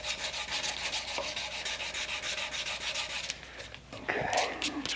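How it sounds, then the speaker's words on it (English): Sandpaper rubs back and forth over the finish on a wooden handle, a close, rapid rhythmic scratching that continues steadily, briefly eases, then resumes with harsher strokes. "now watch this as I start to sand this off"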